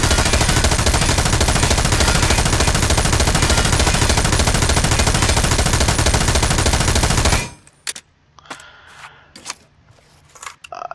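An M249 light machine gun fires one long, unbroken burst of sustained automatic fire at a shooting range, very loud and dense for about seven seconds before cutting off to quiet outdoor ambience with a few faint clicks and knocks.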